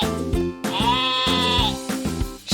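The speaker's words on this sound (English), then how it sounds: "it's the sheep playing in the meadow." A sheep in a meadow bleats loudly and close, a long wavering baa stretched over a second, framed by shorter bleats before and after.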